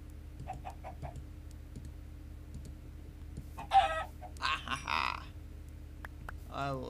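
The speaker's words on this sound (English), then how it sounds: "Ooh, chicken." A Minecraft chicken gives a few clucks and squawks in short bursts at middle distance, over a low background hum with faint clicking and soft talk.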